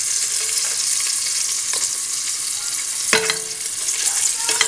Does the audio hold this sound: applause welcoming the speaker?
no